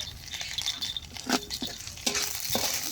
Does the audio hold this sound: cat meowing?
no